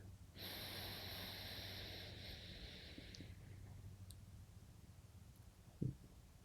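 A soft breath is drawn in through the left nostril during a calming breathing exercise, a quiet, airy hiss lasting about three seconds that then fades, followed near the end by a brief snort-like click.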